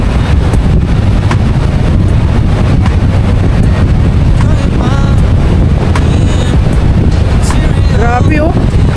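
Strong waves crash and surge against a rocky shore formation at high tide, a loud continuous roar of churning water buffeted by wind, with a man's excited exclamations over it.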